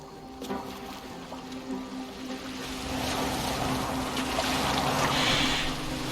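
A boat glides over water in Assassin's Creed Valhalla, with soft continuous splashing and trickling that swell gradually louder toward the end, heard alone without speech.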